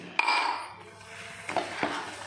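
A spoon stirring sugar into a homemade amla hajmi mix in a bowl, a sharp clink at the start followed by soft scraping and a few more clinks, close and quiet, no talk.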